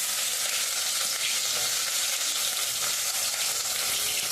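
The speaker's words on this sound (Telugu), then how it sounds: "ఉల్లిపాయలు పచ్చిమిరపకాయలు ఇది వేసేసి బాగా ఎర్రగా వచ్చేదాకైతే వేయించుకుందాము" Onions and green chillies fry in hot oil in a pan, a dense, steady hiss of sizzling that stays even and loud from start to finish with no pauses.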